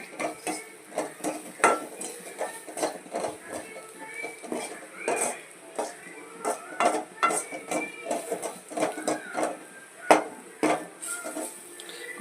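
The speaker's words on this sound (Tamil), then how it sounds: "இது எல்லாத்தையும் லேசாக அந்த எண்ணெயில் வறுத்துறணும்." Spices fry lightly in oil for a South Indian fish roe stir-fry, with a faint sizzle under frequent close, sharp metal clinks and scrapes of a spoon stirring in the pan.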